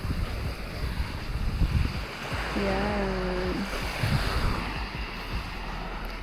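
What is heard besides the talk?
sea waves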